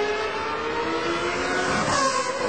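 GP2 race car at the Monza circuit pit exit, its engine a steady, loud broadband roar throughout with a slight swell near the end, no voices over it.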